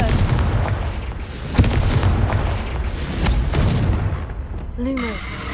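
Confringo spell explosion in Hogwarts Legacy, a heavy boom with crackling blasts amid a dense rumble of combat, followed by a short sharp whooshing flourish near the end.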